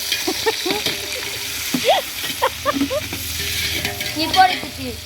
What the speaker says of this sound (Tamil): வெங்காயம் எவ்வளோ வதங்களோ அப்பதான் அது நல்லா இருக்கும்